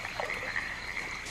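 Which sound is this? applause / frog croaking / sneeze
frog croaking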